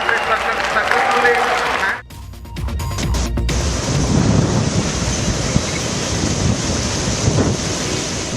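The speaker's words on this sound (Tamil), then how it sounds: "உத்தம்பூர் பகுதியில் உள்ள டவி ஆற்றில் கனமழையால் வெள்ளம் பெருக்கெடுத்து ஓடுகிறது" Floodwater from the Tawi river near Udhampur in Jammu and Kashmir, swollen by heavy rain, roars in a steady loud rush, buffeted by wind noise, with a brief cut partway through.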